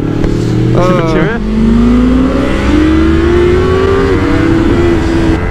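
A BMW S1000R motorcycle accelerates at full throttle, its engine note climbing steadily in pitch after a brief early rev burst, loud and close, with a voice talking over it.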